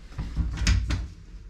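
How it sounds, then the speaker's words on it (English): A hotel bathroom sliding door at the Holiday Inn Kensington in London rolls open or shut, giving two short, close scraping thumps over a low rumble with no talk. "So I discovered it's a sliding door."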